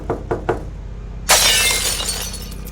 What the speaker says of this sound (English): a window in the kitchen completely shattering